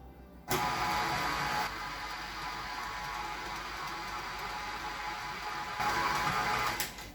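A kitchen mixer runs on its stir setting while mixing dough for vegan hot cross buns, giving a steady, loud whirring drone that starts abruptly and holds level, rising slightly near the end.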